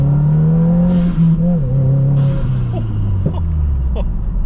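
A 2022 Subaru WRX pulls hard under acceleration, its loud, steady engine note rising and shifting pitch through the gears, close and continuous throughout.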